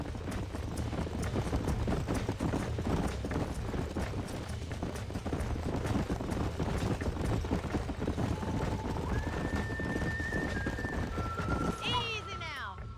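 Rapid clip-clop of horse hooves in the video game Red Dead Redemption pounding steadily throughout, with a horse whinnying near the end.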